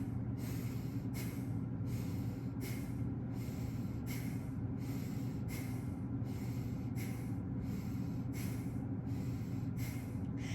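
Slow, forceful breaths out through the nose repeat at a steady pace of roughly one every second and a half, close and clear over a constant low background hum, with no talking.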